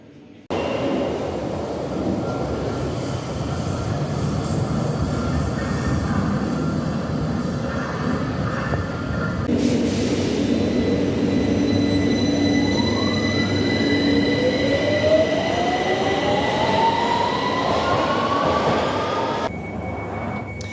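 A London Underground Victoria Line train rumbling past below a ventilation shaft, a loud continuous roar with rising metallic wheel squeals and whines building over the passage, echoing up from the tunnel and fading at the end.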